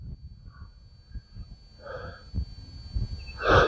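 Tucker the horse gives a few soft snorting exhales at close range, growing stronger toward the end, with the quiet rustle of a stall between them.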